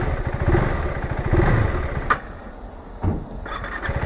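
A brand-new KTM 390 Adventure R motorcycle engine runs steadily nearby, with a rough, pulsing mid-range drone and a couple of brief sharper bursts as it revs.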